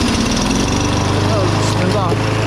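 Lawn mower engine running steadily after being spun to life with an 18V cordless drill, a loud, close, even engine drone with no pauses and a voice speaking briefly over it.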